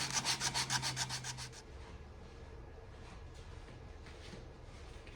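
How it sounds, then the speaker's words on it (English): Sandpaper works back and forth along the grain of a wooden lidded canister being turned, giving about ten quick, close rhythmic scratching strokes before fading to a softer, steady rubbing. "will go with the grain here, back and forth, before I move up to the next grit"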